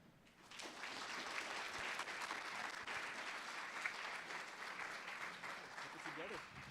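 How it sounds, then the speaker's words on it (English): Applause from an audience at a fundraiser breakfast, a sustained wash of clapping that swells quickly and holds for several seconds before easing slightly. "All right, one more big round of applause for Beth,"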